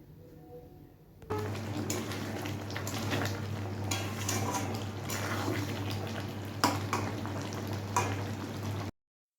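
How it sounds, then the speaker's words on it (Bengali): Chicken with coriander paste sautés in a pan, a sudden steady sizzle and bubbling starting after a quiet opening, with a low hum underneath and a few louder crackles before it cuts off. "ভালোভাবে কষিয়ে নেব।"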